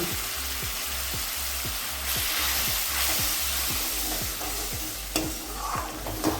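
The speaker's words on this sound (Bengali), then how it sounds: "এতে দিয়ে দিচ্ছি যে ডালটা ফুটছে ওই ডালটা থেকে একটু ডাল দিয়ে দিচ্ছি" Lentils boiling in their pot are ladled into a fried-down spice paste for a Bengali mung dal with fish head. The paste sizzles loudly and steadily, with regular knocks and scrapes as it is stirred, and no voices.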